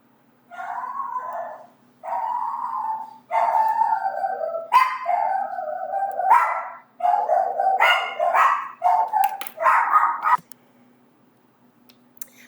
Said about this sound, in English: Sorry about the dogs barking there.